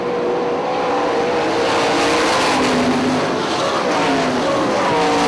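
IRA sprint cars roaring out of turn 4 at Hartford Speedway Park, a loud continuous wall of high-revving engines with shifting pitch as the cars pass close by.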